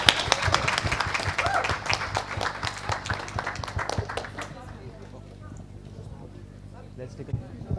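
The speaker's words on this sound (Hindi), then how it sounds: "एक बार जोरदार तालियां हमारे सभी गेस्ट्स के लिए" Audience at a press conference applauding the guests, a dense burst of clapping for the first four seconds that thins to scattered claps, with a voice talking over it.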